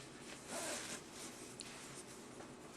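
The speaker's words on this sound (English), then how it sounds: "You pull this down. There's your zipper." A clothing zipper is pulled in short quiet rasps, close but faint, with no talk over it.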